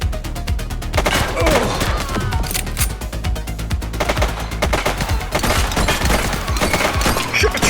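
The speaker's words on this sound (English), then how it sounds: "Shots fired! Hold your fire!" A police shootout in the video game The Precinct, with dense rapid bursts of automatic gunfire and scattered single shots, loud and close, plus occasional thuds and crashes, continuing throughout with no clear talk.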